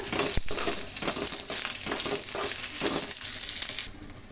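Byadgi dried red chillies frying in a hot pan, a steady close crackling sizzle with scraping stirs, cutting off abruptly near the end.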